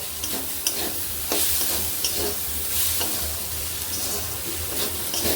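Onion and chicken momo filling fries in a pan with a steady sizzle, broken by repeated stirring scrapes and clinks at close range.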